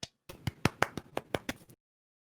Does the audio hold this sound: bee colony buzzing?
no